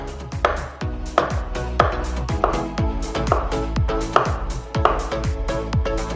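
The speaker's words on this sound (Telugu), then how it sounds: "వీటికి ఉన్న స్కిన్ తీసేసిన తర్వాత ఇలా స్లైసెస్ లాగా కట్ చేయాలి" A knife cuts ripe peeled bananas into slices on a board, about nine crisp, evenly spaced taps against the board, close and clear.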